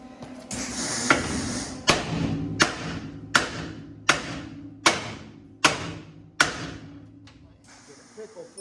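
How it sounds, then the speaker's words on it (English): Hammer blows on a brake part of a 1955 Chevy Bel Air, about nine sharp metallic strikes in a steady rhythm, close and fairly loud, with a low hum running beneath. "May need a heavier hammer."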